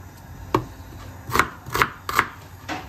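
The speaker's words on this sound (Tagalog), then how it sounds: "Hinihiwa na ni Ima. Binabalata" Knife chopping a whole onion on a cutting board, several sharp, irregular knocks spaced through the moment, close and fairly soft, with no talk.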